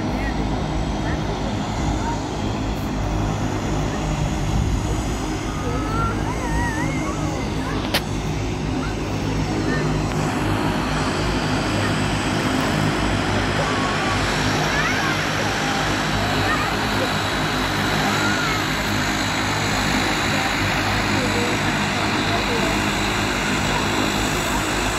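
A steady, loud drone of a Dash 8 Q300 turboprop airplane engine continues throughout, with faint voices underneath.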